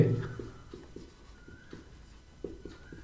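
Pen scratching on paper while working through a Class 10 maths averages problem, a close run of short, rhythmic writing strokes with faint background hum.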